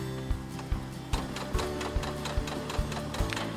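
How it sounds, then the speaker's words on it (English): A sewing machine stitching fabric with the needle down, a fast regular mechanical ticking over a steady motor hum, close and fairly loud, with no speech. "you lift your presser foot up, you pivot, and then you put your presser foot down, and that's all with the needle in the down position"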